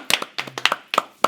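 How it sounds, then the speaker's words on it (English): A few people clapping in scattered, uneven bursts, close and sparse rather than a full crowd's applause. "So give it one more round of applause for us being black"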